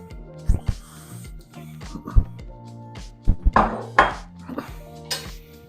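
Cane sugar stirred into kombucha tea in a pot, with scattered close clinks and knocks of a utensil against the pot over a soft, tonal background.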